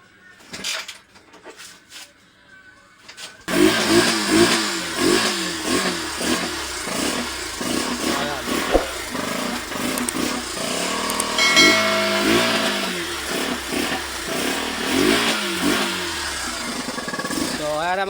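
A Yamaha 150 motorcycle with a fault that makes it stall when revved kicks in after a quiet start and is throttled up and down, its engine rising and falling in repeated loud revs.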